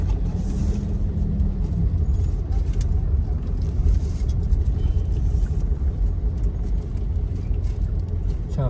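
Steady city road traffic in Victorias City with cars passing, a dense continuous engine and road roar heard close up from within the traffic.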